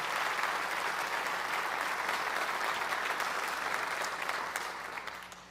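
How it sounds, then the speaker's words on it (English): A large audience at a college convocation claps in sustained, dense applause that holds steady and then tapers off near the end, with no clear voices above it. "Could we give another round of applause to all of those of you who helped?"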